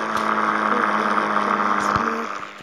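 In a remote control plane video game, the engine gives a steady, droning hum at full throttle. It holds close and even, then fades slightly at the end.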